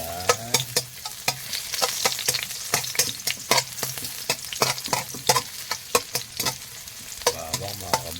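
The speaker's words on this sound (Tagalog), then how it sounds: "Gisa natin. Wait until it's golden brown." Chopped garlic sautéing in a pan for a pechay stir-fry, a steady sizzle broken by frequent sharp scrapes and clacks of a utensil stirring against the metal, close and fairly loud with no talking.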